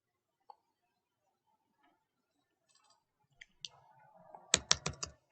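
Computer mouse and keys clicking at a desk while setting up a virtual machine: a few isolated faint clicks, then a quick cluster of louder, close clicks and taps near the end.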